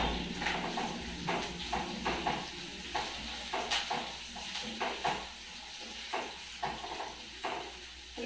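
Curry leaves and onions sizzle in hot oil as a bitter gourd and broad bean garlic curry cooks, a steady frying hiss broken by regular soft scraping taps of stirring.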